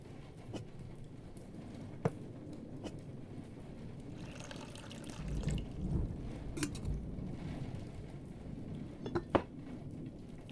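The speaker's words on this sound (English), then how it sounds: "It's empty. I need to fill it with water." In a video game, water pours into an empty container as a soft, rushing trickle that swells mid-way over faint clinks and background ambience, with no talking.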